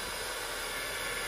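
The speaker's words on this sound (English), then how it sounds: "I'm just going to use a hairdryer instead" A hairdryer blows a steady, broadband hiss of air while warming vinyl wrap on a BMW, close and continuous with no break.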